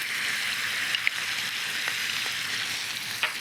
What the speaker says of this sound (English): I'm gonna throw in 3 tablespoons of pomegranate molasses. And we're gonna let that cook down and caramelize.